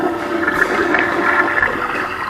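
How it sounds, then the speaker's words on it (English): A sound chip taken from a gift card plays a toilet-flushing noise, a loud, steady rush of water lasting a couple of seconds. "I took apart a gift card that makes flushing noises and added it here"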